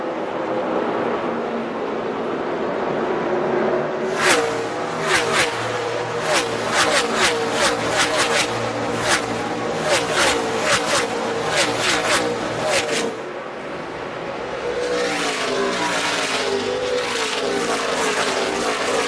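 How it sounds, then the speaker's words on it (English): NASCAR race cars roar past on the racetrack during the 2014 Sta-Green 200, with loud, continuous engine noise and a rapid cluster of cars sweeping by in close succession mid-clip. "Brian Scott and Elliott Sadler in proximity on the racetrack"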